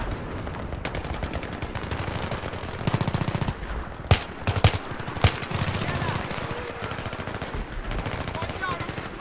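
Automatic gunfire in a Battlefield 3 battle: rapid machine-gun rattles run almost throughout, with louder close bursts and sharp single cracks near the middle over a constant background of distant shooting.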